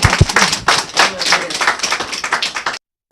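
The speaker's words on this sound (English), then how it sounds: "let's give both of them a hand of applause" Audience applause at a civic leadership forum, a dense burst of clapping from a crowd that holds steady for under three seconds and then stops abruptly.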